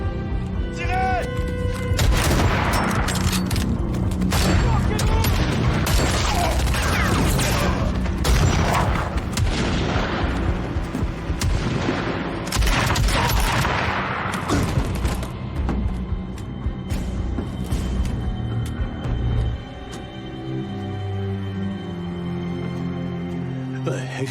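Rifle gunfire crackles in dense, rapid volleys amid a battle scene, with loud booms and sharp cracks over a roaring background, easing toward the end; voices shout in between.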